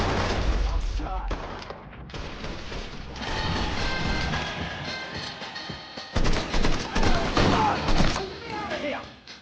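Loud bursts of gunfire from the video game Mafia III, Definitive Edition, crackle through a dense, busy game soundscape, growing heavier and more rapid toward the end, with a voice heard amid the shooting.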